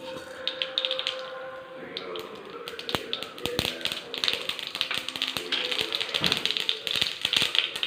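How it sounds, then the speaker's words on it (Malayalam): Rapid, irregular popping and crackling of mustard seeds in hot oil, sharp little bursts building in density, with faint kitchen noise beneath. "കടുക് പൊട്ടി"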